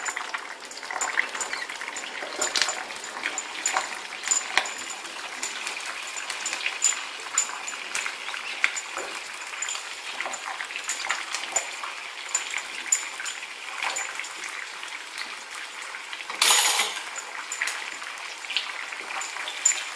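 A pot of Thai green curry boiling, with a close, continuous bubbling and popping texture that holds steady and flares briefly into a louder burst partway through.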